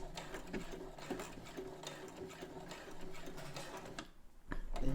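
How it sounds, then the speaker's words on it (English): A Brother CS7000x sewing machine back stitches near the end of a shirt collar seam, a steady rapid mechanical chatter running close and continuous for about four seconds before stopping, followed by a brief louder handling thump. "I'm gonna go ahead and back stitch right here when I'm almost to the end."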